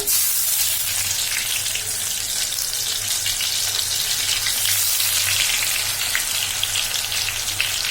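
Eggplant frying in hot mustard oil for achari begun crackles with a close, continuous sizzle that stays steady and loud throughout.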